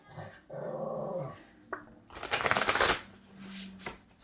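Pet dogs growling low and rumbling in a room, a sustained grumble broken by a sharper snarl, with shuffling and rustling around them.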